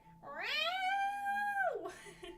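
A person mimics a cat's vocal cry with one drawn-out, rising and falling meow-like wail, close and clear, ending in a brief breathy trail.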